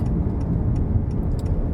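Turn signal of a 2020 Honda Accord 1.5L turbo ticking in an even rhythm, about three clicks per second, over a low hum of road and engine noise from inside the cabin.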